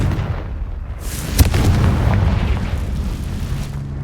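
A Confringo fire spell blasting in Hogwarts Legacy: one sharp burst near 1.4 seconds breaks over a loud, rumbling low roar that swells and lingers, with no voices.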